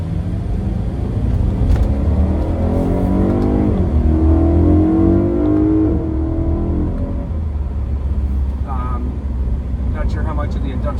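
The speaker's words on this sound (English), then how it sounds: "Throttle blips a bit louder" Tuned BMW E90 M3 ZCP V8 engine blipped and revved from inside the cabin, a rising and falling engine tone sustained under steady talk throughout.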